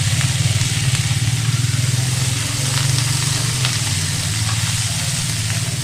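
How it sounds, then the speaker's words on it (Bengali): Cauliflower, carrot and beans frying together in a pan, giving a steady, loud sizzle that holds evenly throughout with no talking. "এবার ওই একই কড়াইয়ের মধ্যে আমি ফুলকপি, গাজর, বিনস সব কিন্তু একসাথে ভেজে নেব।"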